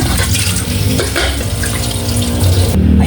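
Mushrooms being rinsed under a running kitchen tap, with a steady, close rush of water splashing into a sink for the whole stretch and no talking.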